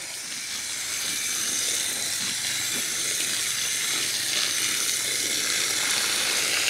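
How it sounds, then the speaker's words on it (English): Water poured over Knipex pliers, a steady hissing, splashing stream heard close and fairly quiet throughout. "add some water."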